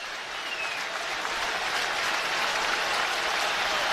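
A ballpark crowd at a Red Sox–Yankees AL Wild Card game roars steadily and loudly, a broad sustained cheer that swells slightly over a few seconds with no voices standing out.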